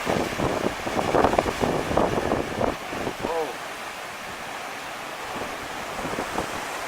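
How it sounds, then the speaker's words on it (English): Ocean waves surge against a cliff face and into a worn-away cave at Koko Head, giving a broad roaring wash, loudest over the first three seconds, then a steady rumbling churn with wind noise and brief voices. "There's some pretty good waves coming in here."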